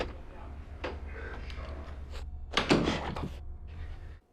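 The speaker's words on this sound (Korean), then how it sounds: "봐, 내가 방 문을 열게." A room door opens with a few thumps and a louder clatter of the handle and frame, close by over a steady low hum.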